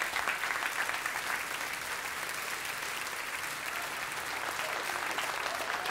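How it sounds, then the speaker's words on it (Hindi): Audience applause after a college girls' dance performance at a college program, a steady dense wash of clapping sustained throughout. "हमारे कॉलेज की कन्याओं द्वारा प्रस्तुत किया गया नृत्य पे जोरदार तालियां बजती"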